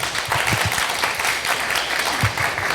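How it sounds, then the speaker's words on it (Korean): Audience applause at an urban regeneration project sharing event in Seoul, welcoming a presenter onto the stage; steady, moderately loud clapping from a seated crowd throughout. "박수로 무대 위로 청하겠습니다"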